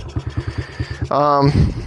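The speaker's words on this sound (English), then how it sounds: "It is having a hard time idling because there's so much oil being burned." A dirt bike engine burning heavy oil idles roughly with an uneven, loping putter close by, then briefly revs into a higher droning whine, while someone talks over it.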